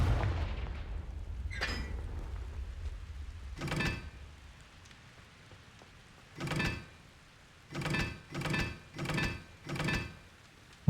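Confringo explosive spell in Hogwarts Legacy, a series of booming blasts: two isolated hits early, then one more, and finally four in quick, even succession, each with a thudding low end.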